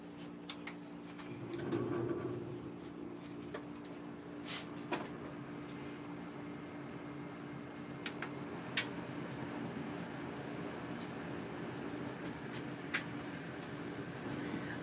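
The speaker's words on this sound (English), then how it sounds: "So I'm just going to turn the fan up a little bit." Electric fan running at a higher setting indoors, a low, faint, steady hum and whir with a few soft clicks and bumps over it, no voices.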